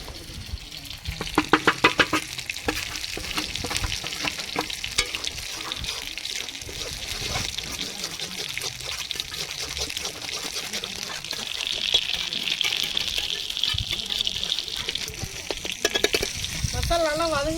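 Masala of turmeric, garam masala, coriander and cumin powders sautéing in a pan for a fish gravy, a steady close sizzle with trickling, stirring scrapes throughout, no talk.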